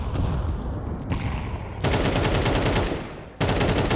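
AK-47 rifle fire in a professional esports video game match: loud, dense automatic bursts that intensify near the two-second mark, pause briefly, then resume with a sharp onset near the end, with no talk over it.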